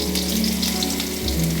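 Chopped potato going into hot oil tempered with black cumin (kalo jeere) and a dried red chilli sizzles steadily up close for a moment, a constant frying hiss with a low hum underneath.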